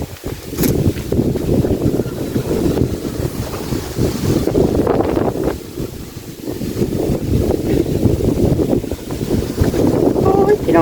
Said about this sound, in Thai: บรรยากาศลมวันนี้เนาะลมเย็นๆ